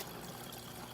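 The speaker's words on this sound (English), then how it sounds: "the flow is going much better up and over and draining into the overflow down into the sump" Water in an aquarium draining over a hang-on-back overflow and falling down into the sump, heard as a faint, steady, continuous trickling and pouring wash with no other sounds.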